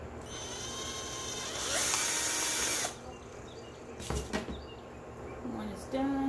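Power driver sets screws into the holes of a wooden clutch purse frame, a whining burst that grows louder then stops, followed by brief clicks and a restart near the end.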